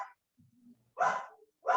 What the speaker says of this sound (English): Dog's going crazy because somebody's at the door.